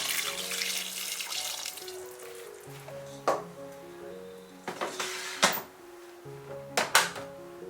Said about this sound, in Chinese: 最后加入开水没过红焖肉